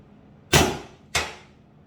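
Two sharp, loud shots from a T8.1 air rifle fitted with a Grimburg barrel, about half a second apart, each a crisp crack with a short decaying tail, and no talk.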